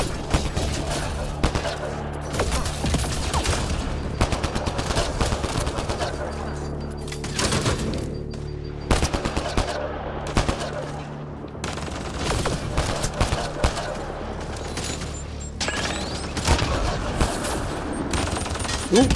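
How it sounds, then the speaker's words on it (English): Enemy gunfire in Mass Effect Andromeda, rapid repeated shots and fusillades crackling throughout amid combat noise, with a brief lull partway through. "That thing is already shooting at me."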